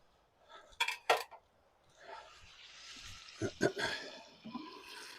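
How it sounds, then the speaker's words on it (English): Metallic clanks and scrapes as a thermometer is pulled and a lid lifted off an outdoor turkey cooker, a few sharp knocks followed by softer rattling and shuffling, fairly quiet. "We're going to pull the thermometer out so we can take the lid off."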